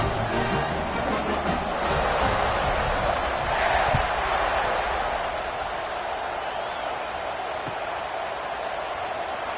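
Football stadium crowd roaring after a scoring drive, a dense sustained wash of cheering voices at fairly even loudness throughout, with occasional thuds and a commentator talking over it.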